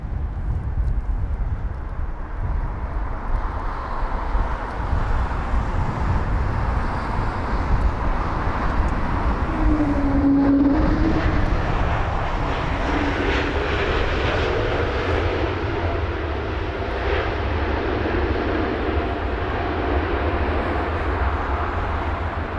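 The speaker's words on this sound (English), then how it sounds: "a Swiss A320 Neo from Zurich, a 1 hour and 34-minute long journey" A Swiss Airbus A320neo arriving at London Heathrow on a windy day, its engines a loud, sustained roar that swells and fades over the runway as it passes.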